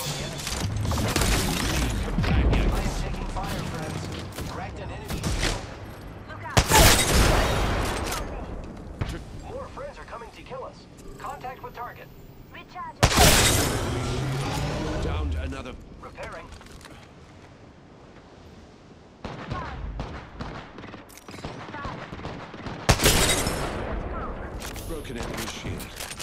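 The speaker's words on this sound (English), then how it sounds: "Opening fire on the enemy." Video game gunfire arriving in a few loud, dense volleys spaced through a long stretch, with a voice talking in between and over the shooting.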